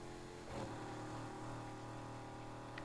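A stock car engine in Need for Speed Heat revs steadily with a rising surge around the half-second mark, a sustained mid-pitched drone with no talk over it.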